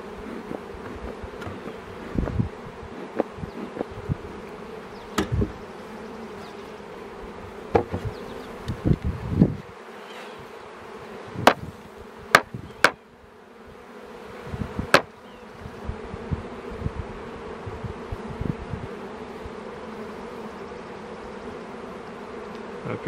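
Honey bees at an open beehive buzz in a dense, continuous drone close by, broken by scattered sharp clicks and knocks from the hive being worked.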